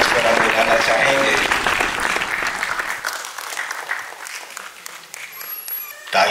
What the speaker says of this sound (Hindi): तालियां आपकी ओर से